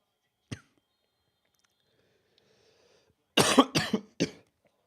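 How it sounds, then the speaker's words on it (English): Several coughs from a nearby person during a live watch-along of a Türkiye versus Paraguay World Cup match: one sharp isolated cough, then a quick cluster of three or four rough coughs after a short quiet gap. "I am coughing away"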